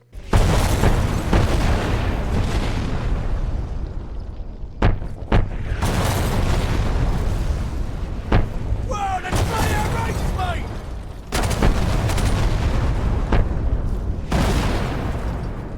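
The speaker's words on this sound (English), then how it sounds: "the entire highway explodes" An AC-130 strike blows up a highway in Call of Duty 4: Modern Warfare, with deep, rumbling booms and heavy blasts in a dense, loud sequence, mixed with mechanical noise and brief voices.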